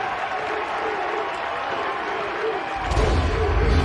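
Crowd at an NCAA regional college baseball game in Greenville cheering after a single to center: sustained crowd roar with an announcer talking over it, swelling louder near the end.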